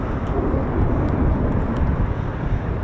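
An F-15 or F-35 fighter jet roars past on afterburner at RAF Lakenheath, a dense, rumbling low-heavy roar that stays loud and steady for a few seconds outdoors.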